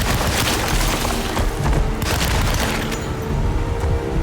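Gunfire in the video game Alone in the Dark: dense, continuous booming shots in rapid succession, loud and close, with no pauses.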